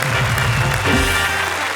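Loud applause from a live audience at a Hindi comedy poetry show, welcoming a poet to the stage; dense, steady clapping filling the whole moment.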